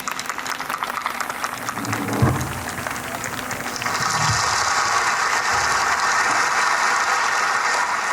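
A crowd applauds to welcome a guest at a school's annual function, with steady dense clapping that swells and grows louder midway and continues without a break.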